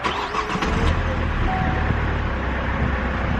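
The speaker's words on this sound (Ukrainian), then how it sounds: "Зараз послухаємо, як заводиться двигун." An Opel Meriva B petrol engine, parked for several hours outdoors on a lot, starts with a brief crank and settles into an even, moderately loud idle that continues steadily to the end.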